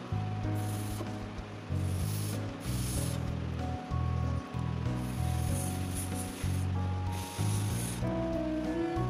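Short bursts of breath blown through a blow pen to spray paint, hissing puffs repeated about six times over a soft background hum and tonal music.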